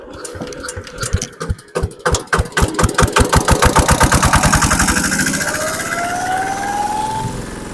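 A diesel rotary tiller engine cranks with a run of rapid, accelerating chugs, then catches and settles into a steady running drone, loud and close with no speech.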